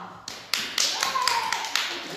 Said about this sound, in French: J'espère que vous applaudissez avec nous